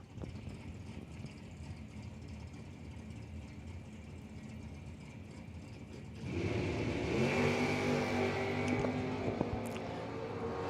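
A 1967 Chevrolet Camaro launches at a drag strip, first a steady idle rumble, then a loud surge of engine revving and acceleration that holds for several seconds, with no voices.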